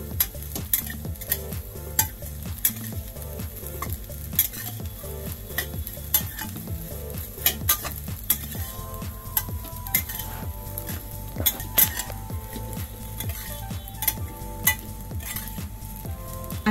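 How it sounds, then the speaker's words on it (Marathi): Vermicelli roasts in a pan for shevai kheer while a spoon stirs it up and down, making repeated metallic scrapes and clinks over a low continuous frying hiss. "तर हे 2 मिनिटं जरा भाजून घ्यायच्या,"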